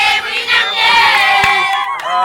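A large crowd in the town of Sange cheers and sings loudly and continuously as the national army FARDC enters, with dense overlapping voices and a sharp clap-like hit midway.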